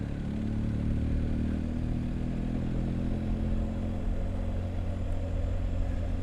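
A BMW 1200GSA motorcycle on a long ride, its engine droning steadily at cruising speed under a loud, constant rush of wind, with no talking.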